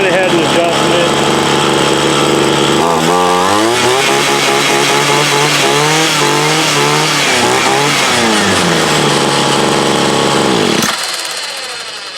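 A Homelite UT33650A 26cc string trimmer engine with an adjusted, borrowed carburetor runs loud and close, its high-pitched two-stroke buzz rising and falling through several revs before cutting off abruptly near the end.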